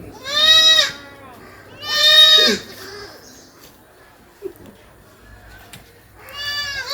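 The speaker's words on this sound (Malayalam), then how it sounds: "എന്താ വലിയൊരു മുട്ടൻ ഒരു എൺപത്തഞ്ച് തൊണ്ണൂറ് കിലോ ബോഡി വെയിറ്റ് ഉണ്ടാവും" Goats at a livestock sale bleat loudly nearby, two harmonic calls close together and then a third, with quiet gaps between them and a large heavy buck goat among the animals.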